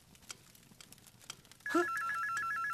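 A mobile phone rings in the Die drei Fragezeichen video game, a clear electronic ringtone suddenly starting after quiet background sounds and continuing steadily at a close, even level.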